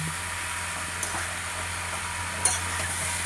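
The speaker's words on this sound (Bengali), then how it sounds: "বন্ধুরা, বাঁধাকপিটা ভালো করে কষছি, ওপর নিচে করে আস্তে আস্তে বাঁধাকপিটা এরকম কষার পরে আস্তে আস্তে বাঁধাকপিটা কমে যাবে" Cabbage being stir-fried with fish bones in a pan, a soft steady sizzle and hiss with occasional faint scrapes and clinks of the spatula, no talking.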